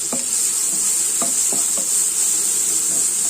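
Raw plantain pieces frying with garlic in a pan for ethakka mezhukkupuratti: a loud, steady bright sizzle throughout, with a handful of soft clacks of a stirring spoon against the pan.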